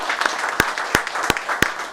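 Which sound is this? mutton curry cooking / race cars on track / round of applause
round of applause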